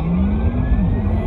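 A Porsche Taycan electric car launches from a standstill, a close, loud rising drone of electric motor whine and road rumble that builds steadily over a short moment.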